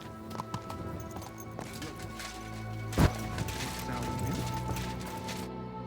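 Horse hooves clip-clop at a stable in the medieval video game Kingdom Come Deliverance 2, steady near footfalls with a sharp thump midway and faint ambient clatter.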